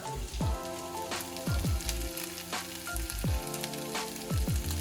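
Fried rice seasoned with salt, black pepper and onion powder cooking in a hot pan, a loud close sizzle punctuated by repeated scraping stirs and clanks of a utensil against the pan.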